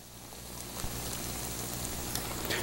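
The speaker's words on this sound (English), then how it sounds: "So we're going to add a little olive oil to our already hot pan." Olive oil sizzling in an already hot pan, a soft steady crackling hiss with faint pops, quiet and close, with no talking.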